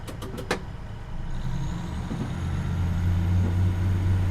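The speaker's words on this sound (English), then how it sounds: "And as we build up engine speed" A Class 150/2 diesel train in Train Simulator 2019, departing Bridgend, starts with a few quick ticks, then its engine hum swells into a steady, rising drone under a thin whine.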